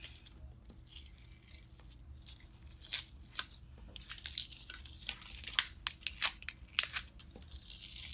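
A sheet of Siser Easyweed heat transfer vinyl is peeled up by hand, giving soft crackling, tearing and crinkling sounds that get busier and more pronounced toward the end, quiet and close.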